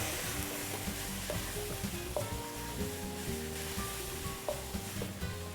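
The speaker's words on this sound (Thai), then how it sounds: "ใส่เนื้อหมูลงไปครับผม แล้วก็ผัดต่อครับ" Pork stir-fried in cooked Thai curry paste crackles and sizzles up close, with a spatula scraping and tapping the pan in an uneven rhythm.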